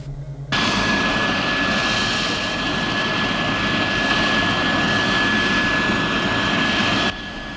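A TV sound effect of an F-116 hypersonic jet fighter taking off: a loud, steady jet roar with a high whine cuts in abruptly, holds for about six and a half seconds and then stops sharply.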